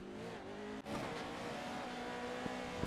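Lucas Oil Pro 4 off-road racing truck engines in iRacing at Wild West Motorsports Park, a quiet continuous high-revving drone with a brief dip in pitch and faint clunks, distant and steady.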